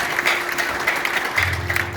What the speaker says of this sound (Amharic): አጨብጭቡላችሁ።